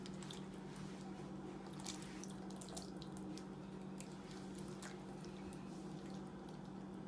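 Sauce poured over red cabbage rolls in a baking dish, a steady wet pouring and squishing under a constant low kitchen hum, with a few faint drips and splats and no talking.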